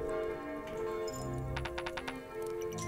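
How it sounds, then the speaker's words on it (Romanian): Church bells ring in a video game, a series of bright metallic strikes in a quick cluster over a sustained musical background, fairly loud and clear. "Gata, sună clopotele"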